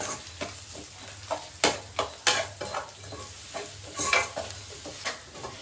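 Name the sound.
tomatoes and onions sautéing in pan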